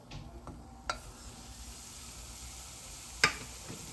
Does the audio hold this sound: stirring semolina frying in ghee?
yes